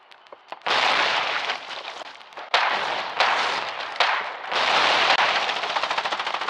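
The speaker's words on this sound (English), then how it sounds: "this mortar action prepares to try and wear down the Warden line" Mortar and gunfire in a Foxhole war battle along the Farranac Coast, heard as loud sustained bursts of rapid automatic fire and booming impacts, breaking off briefly and resuming several times.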